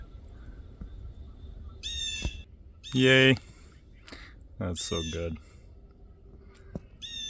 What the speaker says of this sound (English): That's our kestrels are back. They nest here in those big spruce trees every year